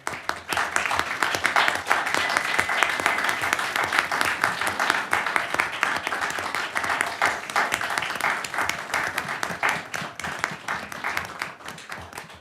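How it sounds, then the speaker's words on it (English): A board meeting audience applauds award recipients with steady, dense clapping that holds for the whole stretch and tapers slightly near the end, with faint talk underneath. "Let's recognize and applaud the recipients for extending their extra work."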